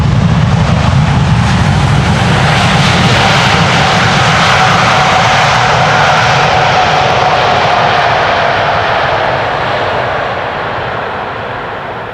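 Jet airliner landing on the Polderbaan runway 18R at Amsterdam Schiphol Airport, a loud close roaring engine rumble with rising whine that holds steady and then begins to fade toward the end.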